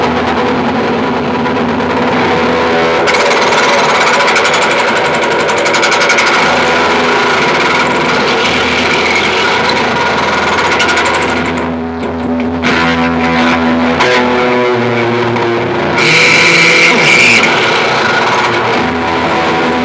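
A Catalinbread Adineko guitar pedal pushes out a dense, harsh wall of noisy guitar effect, loud and continuous, with shifting drones, sputters and a bright whistling tone near the end, and no talking.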